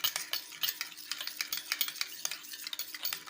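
A spoon stirs salt into hot liquid to dissolve it, making quick, busy scraping and clinking against the container in a steady rhythm, close and alone.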